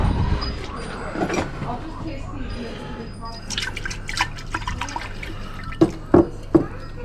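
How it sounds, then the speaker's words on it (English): Water rinses over gold-pinned CPUs soaked in hydrochloric acid, a close, uneven trickle with a few sharp drips and splashes near the end, over steady low background hum and faint talk. "Let's keep rinsing this off."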